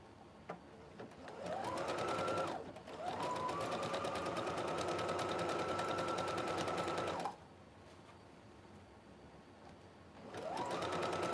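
A sewing machine stitches a line on an Ankara fabric bonnet in three loud, close bursts, with a long steady run in the middle and short pauses between runs.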